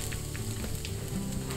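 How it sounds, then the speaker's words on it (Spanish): Vegetables sautéing in olive oil in a frying pan, added one at a time after garlic, giving a steady, close, even sizzle throughout with no talk. "Ponemos un poco de aceite en la sartén y vamos incorporando las verduras de una en una para que se rehoguen todas"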